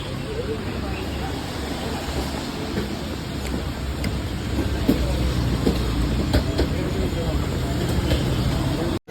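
Steady, loud rumble of a train at Kollam Junction railway station in Kerala, with a constant low roar and a murmur of crowd voices throughout.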